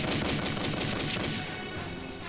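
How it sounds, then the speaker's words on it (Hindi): A machine gun firing in a 1971 war battle scene, a dense, continuous roar of rapid shots at steady loudness throughout, with no speech. "मशीन गन को मैन करो।"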